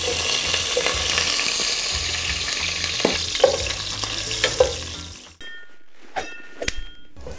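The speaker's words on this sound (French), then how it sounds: "Faites dorer les morceaux de viande dans une huile bien chaude." Pieces of meat browning in very hot oil for a stew: a loud, continuous sizzle with scraping stirs and utensil knocks, then an abrupt drop to quieter frying with a few metallic clinks near the end.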